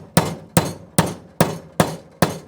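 Six evenly spaced, sharp hammer taps driving a Parawedge anchor down into place, each a crisp close metallic knock with a short decay, no talking.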